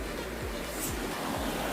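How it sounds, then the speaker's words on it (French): Loud, steady rushing roar of a river in flood, a broad wash of water noise filling the whole short stretch with no break, close to the listener. "vu de la puissance qu'elle déroule la rivière"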